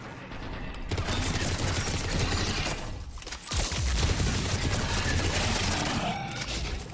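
Harrier assault rifle in Mass Effect 3 multiplayer fires in rapid sustained bursts, loud and close, with a short gap around the middle before firing resumes, mixed with mechanical clatter.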